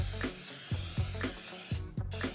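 Cooking spray misted onto a ceramic pan while preparing brownies, a soft continuous hiss with several short bursts against a quiet kitchen background.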